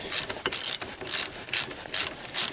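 A 9/16 socket ratchet clicks in quick bursts while a bolt comes off a Fisher Minute Mount snow plow, about five loud, close pawl rattles separated by brief pauses.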